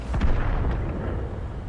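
Heavy tank gunfire in World of Tanks, with a deep booming blast up close that rolls off into a rumbling decay, as a tank destroys an enemy Scorpion.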